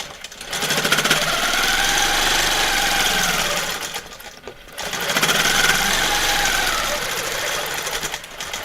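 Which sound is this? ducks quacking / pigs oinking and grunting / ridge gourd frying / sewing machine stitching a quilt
sewing machine stitching a quilt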